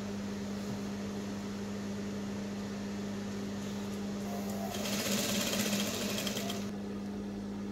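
A sewing machine hums in a continuous close drone while stitching the bodice lining of a full circle dress, with a brighter burst of faster stitching midway.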